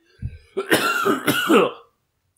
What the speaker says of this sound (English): Sorry if the coughing comes over.